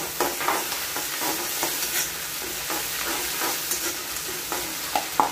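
Chicken lollipop gravy sautéing with green onion and a prepared sauce, a steady close sizzle of frying broken by repeated spatula scrapes and stirring clinks throughout, with no voices.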